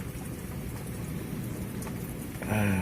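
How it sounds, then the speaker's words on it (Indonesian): Steady rain pours down at a beach near houses, a dense, loud hiss filling the air throughout. "Hujan turun"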